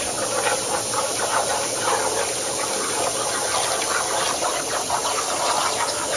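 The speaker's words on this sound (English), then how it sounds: "the winch mount will be made from sturdy 5mm steel which we're cutting out on the plasma table" A plasma table cuts through 5mm steel plate with a steady, loud, broadband hiss that holds unbroken from start to end and carries no talk.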